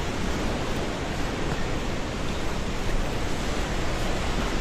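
Loud, steady roar of flash-flood water rushing in Nepal, sweeping a large boulder along in the torrent, a dense continuous wash with no pauses and no voices.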